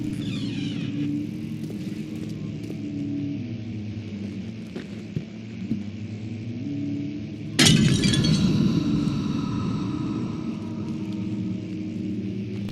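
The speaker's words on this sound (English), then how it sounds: "pick up the urn. It will shatter and the ghost will be set free" An urn shatters in the Amnesia video game: a sudden, loud crash and burst of breaking ceramic bursts out of a low, droning ambience and leaves a rumbling tail.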